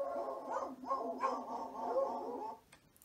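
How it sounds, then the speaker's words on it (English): Several dogs barking in quick succession, a dense run of mid-pitched barks and yips at moderate distance, filling nearly three seconds before stopping abruptly. "Those were dogs barking."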